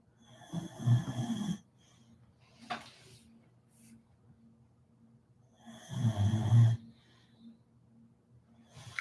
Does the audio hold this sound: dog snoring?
yes